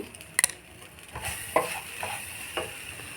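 Chalta pickle fries in a pan with chilli powder, a soft steady sizzle broken by several sharp clinks and scrapes of a spoon stirring against the metal, close and fairly quiet.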